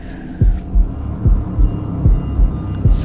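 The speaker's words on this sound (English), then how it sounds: "I'm hearing the heart beating." Steady heartbeat thumps in the video game Shadow of the Tomb Raider, loud low double pulses repeating roughly every half second over a humming background, with a brief higher sweep at the start and end.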